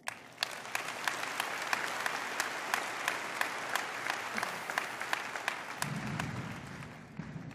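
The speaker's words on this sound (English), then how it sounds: "Worthy of an applause." Audience applause at a university commencement ceremony, a sustained crowd clapping with sharp individual claps standing out near the front. A voice or murmur enters toward the end as the applause begins to fade.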